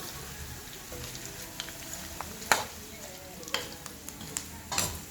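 Ingredients frying and being stirred in a pan, a steady crackling sizzle with sharp scraping clatters of a utensil striking the pan at irregular intervals, close by.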